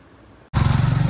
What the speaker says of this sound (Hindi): आ देखो मोटरसाइकिल 2 स्टार्ट हुई है